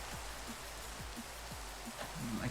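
Steady rain hisses down in the Minecraft video game with shaders, a soft even wash of patter with no speech over it.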